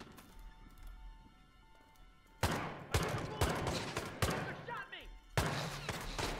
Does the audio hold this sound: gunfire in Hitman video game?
yes